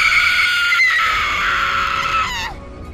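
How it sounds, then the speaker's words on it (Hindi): A woman's piercing, sustained horror-story scream rings out loud and alone for about two and a half seconds, then cuts off sharply into a low rumbling background. "तभी उसने अपने फटे हुए मुंह से एक दिल दहला देने वाली चीख मारी"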